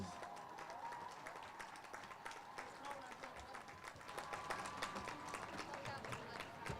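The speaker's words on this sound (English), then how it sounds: "Please give all our Hog students a big round of applause." Faint, distant applause from a football game crowd for high school students, a steady patter of clapping spread across the stands, swelling slightly toward the end.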